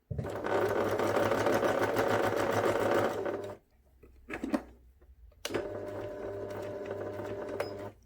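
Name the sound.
sewing machine stitching fabric seam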